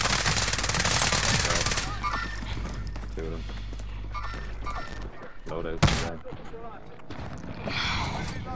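Bursts of automatic gunfire in a Call of Duty Warzone match on Rebirth Island, with dense rapid shots in the first two seconds and a sharp crack near the six-second mark, under excited player voices.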